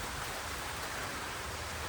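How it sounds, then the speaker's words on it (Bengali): Steady rain falls outside, a constant even wash of hiss with no pauses or voices. "কি বৃষ্টি বাইরে"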